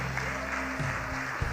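A church congregation claps together at a Spanish-language service, a steady, dense wash of applause with a sustained tone and faint voices underneath.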